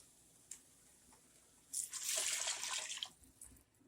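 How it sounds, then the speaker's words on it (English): Water pours into a cooking pot while making taco soup, a soft splash after a faint tap and then a steady, fairly loud trickling stream lasting over a second before tapering off. "We're going to go ahead and add in 2 cups of water."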